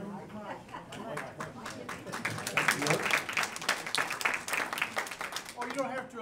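An audience breaks into steady applause after a talk on the Alexander Memorial and its history, dense clapping sustained throughout at moderate volume with some murmured voices mixed in.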